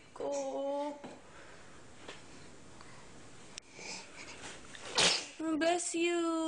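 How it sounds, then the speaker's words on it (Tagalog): A baby's small, sharp sneeze bursts out near the end, with a soft voice talking before and after it in a quiet room. "Sneeze."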